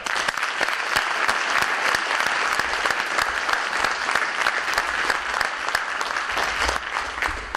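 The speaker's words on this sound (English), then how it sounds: "If we could recognize them with a round of applause" Audience at a high school scholarship and awards night giving a round of applause, dense sustained clapping from many hands filling the room steadily for several seconds, with no speech over it.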